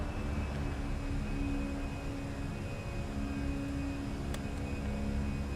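Airbus A320 engines held at climb power in a flight simulator, a steady broadband roar with a faint droning hum underneath, constant and unbroken throughout.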